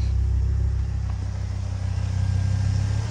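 A Ford Focus ST pulls away through first and second gear, its engine giving a deep continuous rumble that rises slightly, close up and steady without speech.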